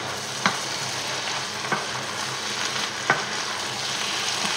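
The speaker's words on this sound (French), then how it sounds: "Les légumes cuisent tranquillement" Vegetables cook gently in a frying pan, a steady even sizzle up close with three brief taps of a utensil against the pan, no one speaking.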